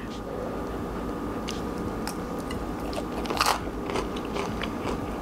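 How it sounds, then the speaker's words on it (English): A bite into a crunchy, layered ham and cheese pastry dipped in blackberry syrup gives a close crisp crackle and crunch that peaks briefly mid-bite, over a steady background hiss, with no talking. "so I'm gonna take a little bite"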